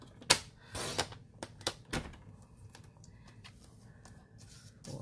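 Paper is trimmed to size for a snowflake frame, giving several sharp, close clicks and slicing snaps in the first two seconds, then quieter scattered ticks.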